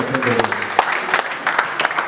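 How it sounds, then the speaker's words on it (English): Audience clapping at an inauguration lecture and new executive swearing-in, a dense burst of applause heard up close and mixed with a speaking voice. "we should give him a louder round of applause"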